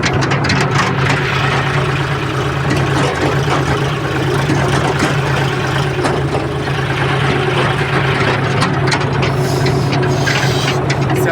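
A vehicle engine runs loud and steady close by, a continuous low rumble like an idling truck, during night work in cold weather.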